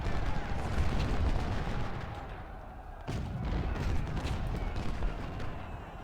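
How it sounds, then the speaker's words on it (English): Artillery fire in the Ultimate General: Civil War game, a dense, continuous barrage of distant booms and crackling gunfire rolling on steadily with a brief dip partway through. "he's hitting me with his artillery"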